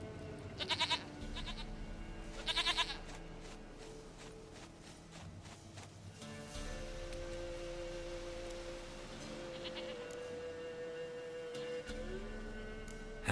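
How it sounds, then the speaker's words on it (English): Goat bleats in the video game Witcher 3 come in a couple of short, nasal bursts over a steady ambient game background with faint footsteps and music-like drones. "Goat of mine, dearest,"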